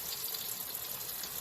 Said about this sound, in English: What I do is I add some water, just enough water, just a little bit.